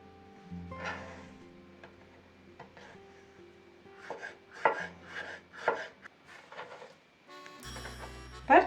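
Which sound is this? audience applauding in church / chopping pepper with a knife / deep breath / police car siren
chopping pepper with a knife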